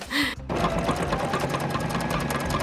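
A sewing machine runs a plain straight stitch through fabric for a shopping bag. After a brief sound at the start, it settles into a steady, continuous whirring hum with a fast mechanical rhythm that carries through to the end.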